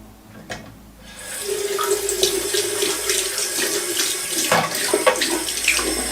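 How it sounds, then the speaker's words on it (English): Water gushes steadily from a faucet into a sink, close and fairly loud, starting after a brief quiet moment and continuing throughout. "You can hear the water running."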